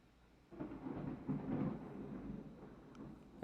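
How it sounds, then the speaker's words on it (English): Distant thunder rumbles low and faint for a couple of seconds, a soft rolling swell that fades out, heard alone without talk. "There's the thunder."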